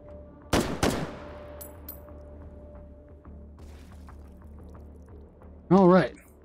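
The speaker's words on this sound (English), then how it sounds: "Who's shooting at me?" Gunfire in the VR shooter Hot Dogs, Horseshoes & Hand Grenades: two loud, close shots in quick succession with a ringing decay, followed after a quiet stretch by a brief spoken exclamation.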